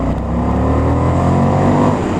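An Indian FTR 1200 motorcycle fitted with an Akrapovic exhaust pulls hard in fourth gear, a loud, steady deep engine roar with rising tone heard close up, alone without talk.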